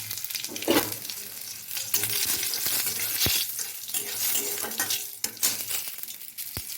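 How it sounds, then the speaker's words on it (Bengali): Cumin seeds, whole garam masala and dried red chillies hit hot white oil in a kadai for a vegetarian chhana curry, giving a steady close crackling sizzle broken by sharp pops and spatters. "কড়াইতে সাদা তেল দিয়েছি, সামান্য একটু জিরে দিলাম, গোটা গরম মশলা, শুকনো লঙ্কা দিয়ে দিলাম।"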